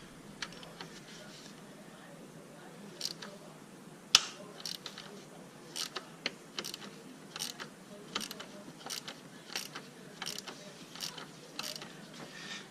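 A bolt on the coil pack of a Mercedes-Benz CL600 (W215) engine being loosened with a ratchet, giving a run of quiet, irregular clicks and small metallic ticks with faint rustling between them and no talk.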